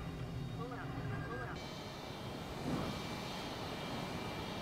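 A jet aircraft engine in Microsoft Flight Simulator gameplay gives a steady, broad roar that stays even throughout, with a brief rising swell midway.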